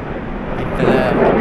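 Airplane noise rumbles overhead near the University of Toronto on a walk along College Street, a broad roaring wash that swells louder toward the end, mixed with wind on the microphone.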